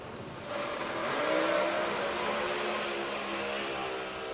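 A Pro Mod drag racing car engine roars steadily from a distance, its loud sustained drone rising slightly in pitch, then easing as the throttle comes off, with no talk over it.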